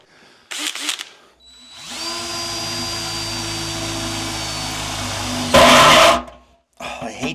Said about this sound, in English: what we're gonna do is put a hole in the side of the barrel. Need a drill.